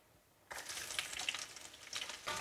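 Shallots dropped into leftover hot frying oil burst into close, crackling sizzle after a quiet start, spattering steadily with stirring scrapes and no voices.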